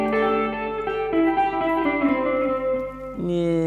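Electric guitar run through an original Line 6 Pod with heavy reverb, sustained chords ringing out steadily with a long, washy tail and a fresh strum near the end, loud and alone.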